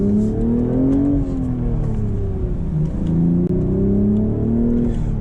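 A 2025 BMW Z4 M40i manual sports car's engine hums and revs steadily up and down, close and continuous, with a deep rumbling tone throughout.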